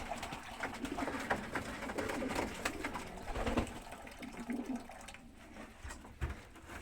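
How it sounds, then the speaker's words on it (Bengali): Pigeons gather to drink fresh water, their soft cooing and low bird calls running steadily through a noisy background with some splashing; no talk. "আর আমার কবুতর সবগুলো চলে আসবে পানি খাওয়ার জন্য।"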